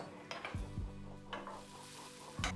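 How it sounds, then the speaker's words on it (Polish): Onions frying and caramelizing in a pan, a low sizzle broken by a few close clinks and scrapes of a utensil against the pan, with no talking. "cebula zaczęła się pięknie karmelizować"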